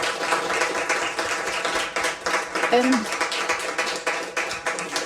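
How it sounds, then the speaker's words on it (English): After a public lecture, an audience gives sustained, even applause. A voice is heard briefly over the clapping. "So a big applause."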